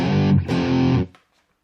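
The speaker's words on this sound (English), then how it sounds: "just the mega distortion." Electric guitar through a Boss Mega Distortion pedal, two heavily saturated, buzzing chord strikes in quick succession, loud and close, then cut off into silence.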